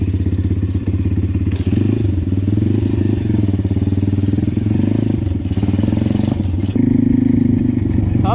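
Pitgang 140 pit bike engine runs continuously nearby with a steady buzzing idle, a few rattles and clunks, and brief rises in revs toward the end.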